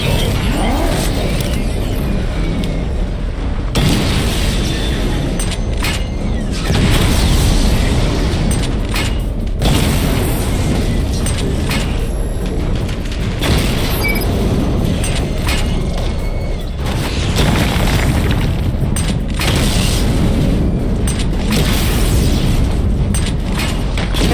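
Missile barrage explosions in the video game Batman Arkham Knight, a dense continuous run of loud booms and bursts with mechanical rumbling throughout, no voices.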